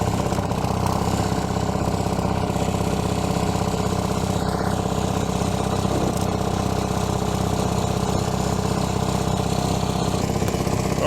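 A stuck track loader's diesel engine runs as it is worked back and forth, giving a loud, steady, rumbling drone that continues unbroken with no talking.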